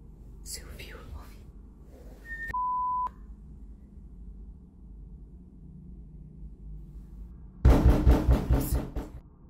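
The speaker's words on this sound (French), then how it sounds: "On peut entendre quelque chose tambouriner à la porte" Something pounds on a house door around 2 a.m. in a burst of heavy, rapid thumps near the end. Before it come faint whispering, a steady electronic beep tone and low room hum.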